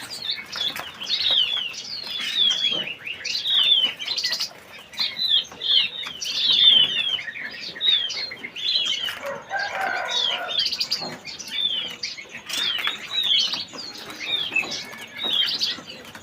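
Caged birds at a bird seller's kiosk chirp rapidly and constantly in bright, overlapping tweets, with bursts of wing flapping mixed in, close and busy throughout.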